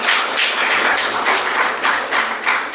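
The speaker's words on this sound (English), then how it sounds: "a special round of applause to all those people who came up here and spoke so beautifully" Audience at a valedictory ceremony clapping together, a loud, dense burst of applause with rhythmic surges that holds steady for the whole stretch, no voices above it.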